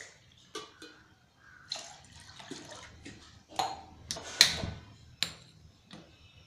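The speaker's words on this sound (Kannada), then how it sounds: "2 ಅಳತೆ ನೀರು ಹಾಕೋಣ." Water poured from a measuring cup into a pot, two measures for cooking ragi mudde (finger millet flour balls), arrives in short splashing bursts with gaps between pours, close and fairly quiet.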